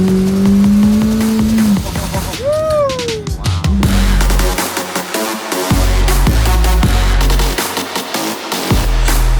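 A one-off McLaren Senna called Merlin starts up with a rising whine, then its engine barks to life and revs hard in repeated loud bursts, followed by aggressive driving with sharp throttle blips and deep roaring pulls, close and dominant.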